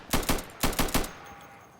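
Five single-fire gunshots from the video game Insurgency ring out in quick succession, two then three, sharp and close, with a brief fading tail afterward.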